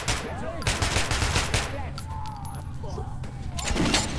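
Rapid gunfire bursts from a firefight in the video game Metro Last Light, loud and continuous, mixed with voices talking over the shooting throughout.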